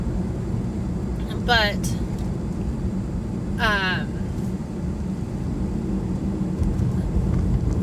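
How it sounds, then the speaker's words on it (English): Steady low road rumble fills the cabin of a car being driven home from work, constant throughout, with someone talking over it and two short chirping bird-like sounds briefly rising above. "sorry, I'm driving home from work"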